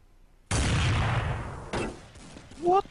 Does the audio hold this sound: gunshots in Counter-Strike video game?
yes